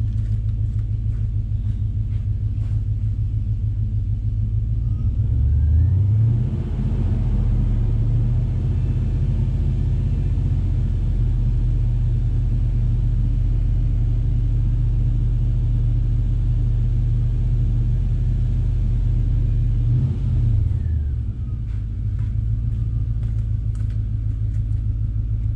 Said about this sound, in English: Give a few revs, see what happens.